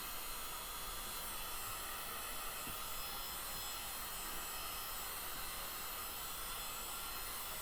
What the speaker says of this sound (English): Plus the heat gun will help those inks mix together a bit and do some fun things.